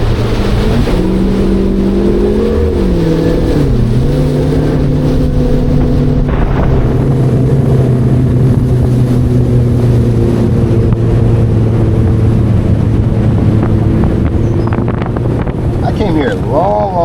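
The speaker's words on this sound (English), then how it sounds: "The wind's blowing really hard today" Strong gusts roar across a big river, buffeting the microphone in a loud, continuous rush, while a low engine drone hums steadily underneath throughout.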